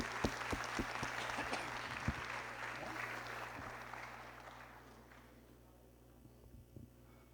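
An audience in a church meeting applauds with dense clapping, then the clapping fades out into a quiet room hum. A mains hum runs underneath, and a few scattered claps are left near the end.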